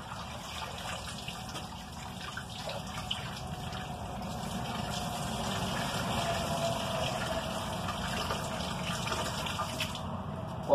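Animal hides swished and pushed around by hand in a tub of soapy water with dish soap, giving a steady, close sloshing and splashing of liquid that continues without a break.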